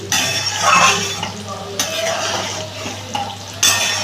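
A spoon stirs a flour dough mixture with ghee in a pan, giving soft scraping and clinking strokes over a faint sizzle, moderately close, with a brief spoken remark.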